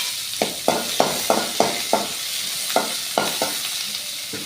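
Onion sautés with ginger, garlic and popped mustard seeds in oil, a continuous sizzle punctuated by about ten sharp, regular spatula strokes against the pan, close and clear.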